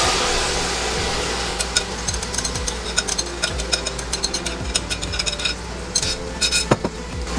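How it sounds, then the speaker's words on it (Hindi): Marinated mutton going into a metal karahi and being stirred, with repeated scraping and clinking of a utensil against the pan over a steady background hiss. "इसके साथ ही हम मैरिनेट किया हुआ गोश्त ऐड कर देंगे।"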